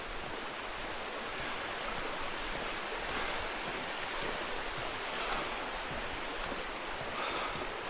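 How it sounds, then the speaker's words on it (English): A small stream flows near Minoh Falls in Japan, a steady close broadband rush of water that keeps an even level for the whole stretch, with no voices over it. "the little stream or river, creek."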